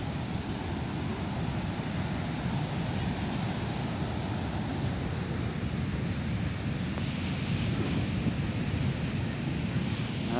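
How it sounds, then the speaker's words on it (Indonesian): Surf at Ngudel beach in South Malang washes ashore in a steady, rumbling roar, with wind buffeting the microphone the whole time. "Ini suasana Pantai Ngudel, Malang Selatan."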